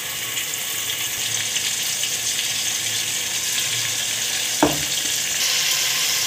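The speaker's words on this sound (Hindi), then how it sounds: "सो हम इसमें डाल के अपने मटन फ्राई कर लेते हैं" Mutton sizzles and fries in hot oil with masala in a pan, a loud, constant close-up crackle with one brief clatter near the end and no talking.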